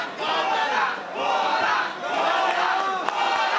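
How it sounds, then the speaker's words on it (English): A fight crowd roars and shouts in rising and falling waves, cheering on MMA fighter Coby Porter at a Beatdown Promotions event, loud and sustained with a brief sharp crack near the end. "The crowd getting behind Coby Porter, urging him on"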